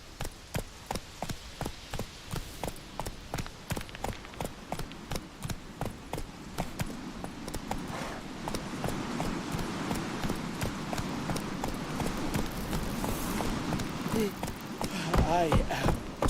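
Roach the horse gallops in The Witcher 3: Wild Hunt on PC, with steady, close hoofbeats in a fast rhythm that later blend into a denser mix of game sounds and voices.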